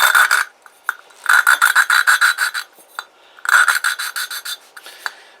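Valves being lapped into a Kymco Agility 125 cylinder head with a lapping stick: loud, gritty rasping strokes in quick rhythmic bursts, separated by short pauses and a few single taps, close and alone.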